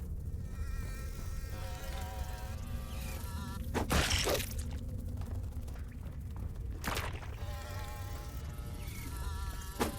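Mosquito-like insects buzz in the underground Mars survival game Blind Descent, a steady whining drone with wavering tones and two brief sharp bursts of impact noise.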